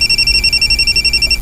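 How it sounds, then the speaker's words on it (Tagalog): A telephone rings with a steady repeating electronic trill, loud and close, running continuously for about a second and a half before cutting off, with no voices. "Nanawag na sa Carding"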